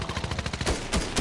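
Fast automatic gunfire in a Fortnite match, a loud string of evenly spaced shots followed by a few heavier blasts, close and with no talk over it.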